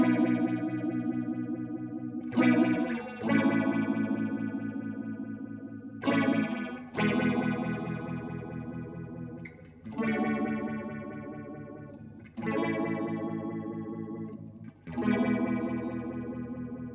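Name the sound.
Electro Harmonix Bad Stone phase shifter effect pedal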